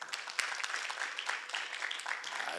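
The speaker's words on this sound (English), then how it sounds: "Director Tahedi, let's give him a round of applause." Brief round of applause from a leadership event audience, a moderate, thin patter of scattered hands clapping steadily for under three seconds with no voices over it.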